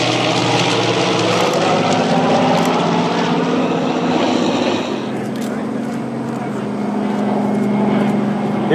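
A C-123 Provider military transport with Pratt & Whitney twin Wasp radial piston engines drones loudly overhead at an air show, its propeller roar steady then easing, while a narrator speaks over it.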